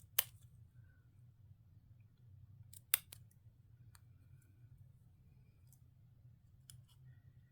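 Sharp scissor snips cutting small buckles, a few isolated crisp clicks spaced apart, over a quiet low hum.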